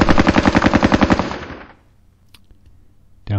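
Video game machine gun fire rattles off in a rapid, loud burst of evenly spaced shots for about a second and a half, then cuts off, leaving near silence with a faint distant pop.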